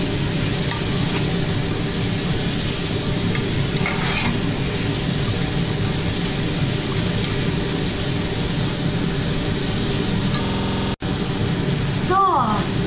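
Mushrooms seasoned with salt fry in a pan with a constant loud sizzle throughout, briefly cut off near the end before a voice speaks over the sizzling.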